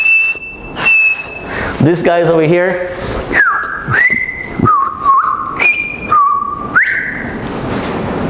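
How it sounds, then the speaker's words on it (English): A bellbird gives a hollow bonk followed by clear, sustained whistles that step between pitches, loud and close in a series of calls, with someone speaking briefly between them. "Bonk and a whistle."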